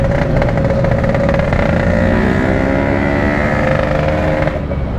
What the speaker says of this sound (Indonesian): Vespa ini sehat.